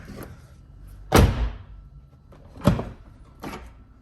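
A 2022 Tesla Model Y car door opens and shuts with heavy thuds, two solid closing bangs a second or so apart, plus lighter latch clicks.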